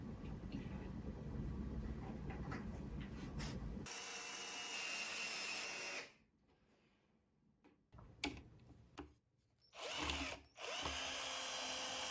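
Power drill driving factory screws back into a wooden IKEA KNAGGLIG box, a loud steady whir for several seconds, then a pause followed by short bursts of drilling.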